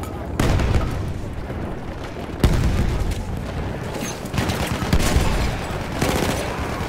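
Battlefield 1 multiplayer combat: sharp grenade blasts and bursts of rapid gunfire crack close and loud, overlapping continuously with booming distant fire and a chaotic battlefield din.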